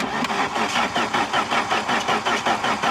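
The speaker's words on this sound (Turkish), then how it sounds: "Marşa basalım." Saab 9000 car being cranked to start after accident repair, a rapid rhythmic chugging of the starter turning the engine over at a steady pulse, close and loud throughout.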